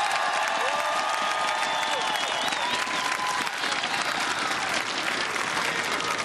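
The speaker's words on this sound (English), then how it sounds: "Let's give them a round of applause." Large crowd at the Pittsburgh Penguins Stanley Cup victory parade applauding and cheering continuously, loud and dense, with whistles and shouts rising over the roar.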